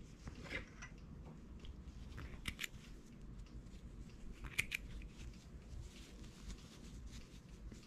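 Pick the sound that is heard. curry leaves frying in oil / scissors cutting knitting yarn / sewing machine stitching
scissors cutting knitting yarn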